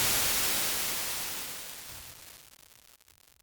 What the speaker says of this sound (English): I'll decrease the volume of the whole white noise until we get like a vinyl crackles